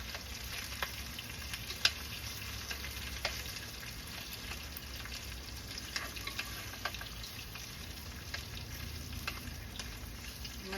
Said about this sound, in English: I'm gonna put the shortening in so it fries. There it goes, it's melting.